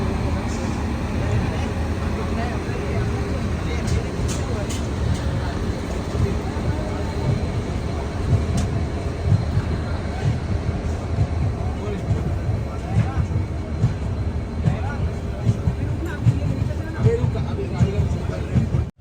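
Steady rumble and rattle of a moving Northern Railway express train, heard from inside an AC 3-tier coach on a Delhi to Kashmir journey, continuous and fairly even with faint voices underneath.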